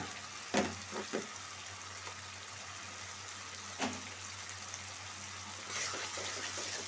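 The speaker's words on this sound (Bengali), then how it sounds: "আদা রসুন বাটা দিয়ে দিচ্ছি, একটু ভাজা ভাজা হোক" Ginger garlic paste frying in a pan, a quiet low sizzle with a few sharp pops and clatters near the start and middle, close by, with no speech.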